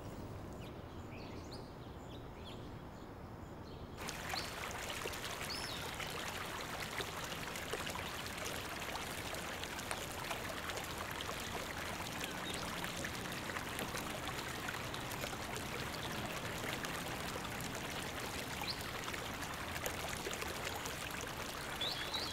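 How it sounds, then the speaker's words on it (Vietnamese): A stream flows in a steady, gentle rush with a faint trickle. Soft at the start, it swells after a few seconds into a fuller, continuous wash that lasts to the end, with no talk. "Đây là dòng suối năm xưa"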